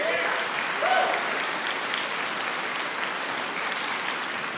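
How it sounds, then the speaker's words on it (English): An audience applauds steadily before a Richmond Symphony Orchestra concert, an even wash of many hands clapping at moderate volume throughout. "Let's give them a round of applause."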